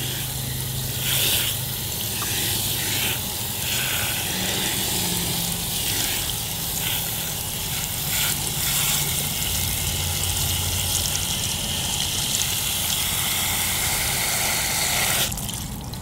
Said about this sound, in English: I'm probably rinsing it out too much.